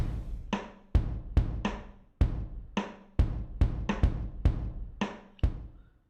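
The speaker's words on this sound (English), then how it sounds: "in the bluebird kick layer I have added a clip distortion" Bluebird kick drum layer run through clip distortion in a remake, a dozen punchy distorted thumps in an uneven pattern with short bright attacks and ringing tails, fairly close and alone without talk.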